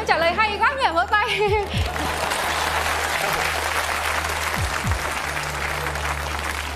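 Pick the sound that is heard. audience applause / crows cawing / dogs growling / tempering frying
audience applause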